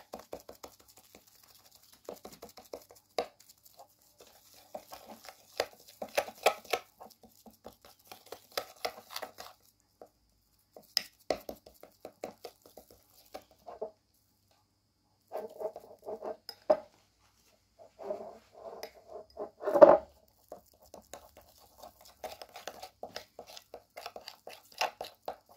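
Soft, sticky patting and scraping as a Vaseline skin remedy is stirred in a small dish, quiet irregular taps with one sharper knock.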